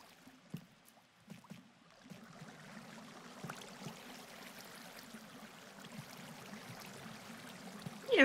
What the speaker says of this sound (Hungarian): Mi ez a sok víz?